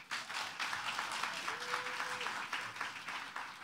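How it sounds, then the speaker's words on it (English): Audience applause at a poetry and visual art launch event in the Twin Cities, a steady broad wash of clapping filling the room for the whole stretch, with a faint voice-like tone briefly over it. "warm world of applause for Samah."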